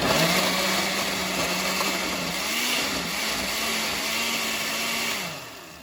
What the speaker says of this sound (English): I'm gonna close this and blend this up